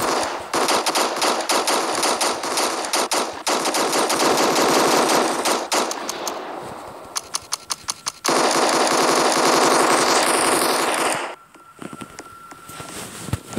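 Gunfire in a Roblox shooting game: long bursts of rapid automatic fire that come close and loud, pause briefly, and resume, ending in a short quieter stretch, with no voice.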